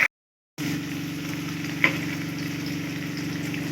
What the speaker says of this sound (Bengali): পনিরগুলোকে আমি ভেজে নিচ্ছি।